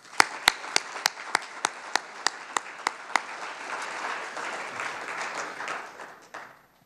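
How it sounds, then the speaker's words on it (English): Applause from a conference audience for a guest speaker, opening with a handful of distinct, evenly spaced individual claps that swell into a full, steady round of clapping before fading out. "Please, another round of applause for our guest speaker"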